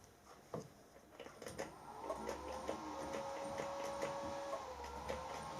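Machine jogged slowly to start cutting a thread while repairing the gas ram of an SNNC 285 P1 air rifle: quiet, steady mechanical whirring with light ticking, no talk.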